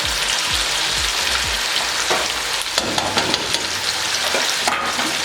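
Spices for chicken korma, among them turmeric, red chili powder, salt and coriander powder, sizzle steadily in a hot pan while a spoon scrapes and stirs them in a few distinct strokes, close and fairly loud, with no talking.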